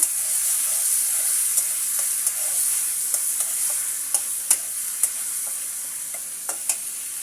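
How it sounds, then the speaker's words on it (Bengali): Onion and garlic paste fries in a pan for a fish curry with potato and tomato, hissing in a bright steady sizzle with intermittent sharp spatters and stirring clicks, close and fairly loud, no voices. "এবার আমি পেঁয়াজ এবং রসুন বাটাটাকে সুন্দর করে ভেজে নেব।"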